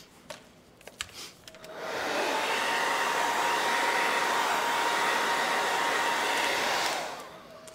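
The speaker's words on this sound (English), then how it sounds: "I'm gonna blow dry." A hair dryer blows steadily to dry yellow acrylic paint on a rustic distressed background, switching on after a couple of soft knocks and running loud and even for about five seconds before cutting off.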